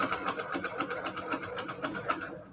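A sewing machine fitted with a walking foot stitches in a fast, even mechanical chatter, close and continuous for a couple of seconds.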